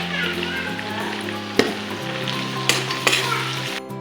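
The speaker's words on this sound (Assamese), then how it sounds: "এতিয়া নহৰু গোন্ধটো যোৱালৈকে বুলি অলপ সময় ভাজি থাকিম" Ginger-garlic paste sizzles and fries steadily in a hot pan, with a few sharp clinks of a utensil against the pan partway through.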